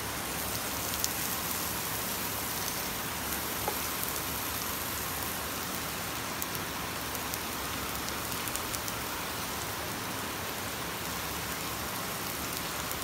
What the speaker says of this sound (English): the raining outside is just unbelievable raining